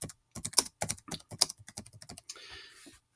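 Typing on a computer keyboard: a quick run of crisp, close key clicks in an uneven rhythm for a few seconds, ending with a brief softer rustle, no voices present.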